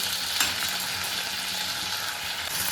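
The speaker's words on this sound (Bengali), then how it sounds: "এবারে খুব ভালো করে এগুলো হালকা করে ভেজে নেব।" Ginger, garlic, onion, tomato and whole spices fry gently in a pan, a dense continuous sizzle close up with only slight stirring movement and no voices.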